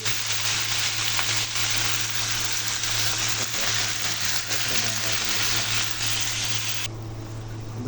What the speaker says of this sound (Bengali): মরিচগুলো কাটি নাই, যেটা ফুটার চান্স আছে, এগুলো হালকা ফ্রাই করবো